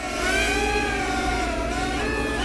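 A Sky Viper Spider-Drone toy quadcopter runs its motors at full throttle, a loud, close, continuous high buzzing whine whose pitch wavers and slides as it strains to recover.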